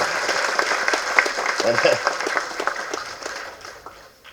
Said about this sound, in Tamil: கொள்ளு பேருனுக்கு ஒரு கைத்தட்டு